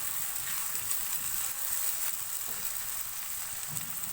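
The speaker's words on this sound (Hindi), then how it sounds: "प्याज को हमें अच्छे सा गोल्डन ब्राउन करना है।" Finely chopped onions fry steadily in hot oil, turning golden brown for a chicken masala, with a continuous close sizzle and faint stirring scrapes.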